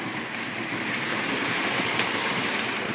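An O-27 model train runs steadily on a home layout, a continuous close rolling rumble and hiss with a faint click around the midpoint and no talking.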